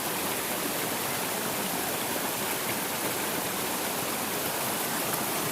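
Waterfall stream at Ton Wat Khao in Phang Nga rushes in a steady, dense hiss of flowing water, close and constant throughout with no breaks.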